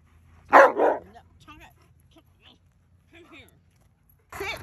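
An Alaskan Malamute vocalizes close by with two loud bark-like howls, then softer grumbling, talk-like whines and a final loud outburst, while a person's voice is mixed in.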